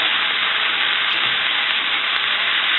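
Shredded and sliced cabbage stirred into a hot frying pan for an Indian eggroll filling, giving a loud, steady, even sizzle close up with no talking.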